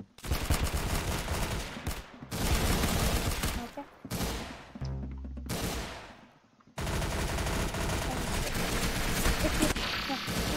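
Rapid gunshots in a Roblox Arsenal match, loud bursts of automatic fire broken by short pauses, with faint talk underneath.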